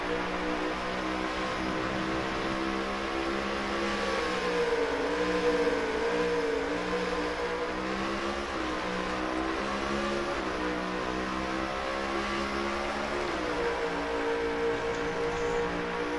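NASCAR stock cars from NASCAR Heat 5 racing at Watkins Glen, a steady loud engine drone with wavering revs as the car shifts and holds speed, continuous with no voices.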